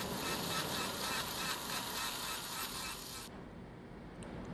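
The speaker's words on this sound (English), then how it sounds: "It sounds kind of like a dentist drill." A carving machine cuts a scale model with a steady, high, dentist-drill whine that runs unbroken for about three seconds and then cuts off, leaving a quieter mechanical hum.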